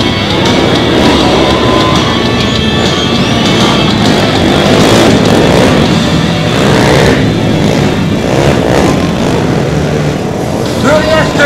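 Three motorcycles racing laps around a track at a monster truck show, their engines droning and revving loudly throughout under a continuous announcer's voice and crowd noise.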